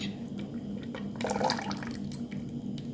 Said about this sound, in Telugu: షుగర్ సిరప్ వేసుకొని